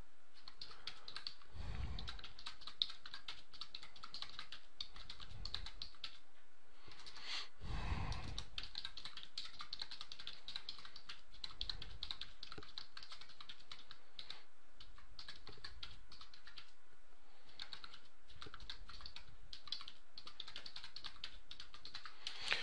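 Rapid, steady clicking of fingers typing on a computer keyboard, close up, continuing with brief pauses and occasional low thumps.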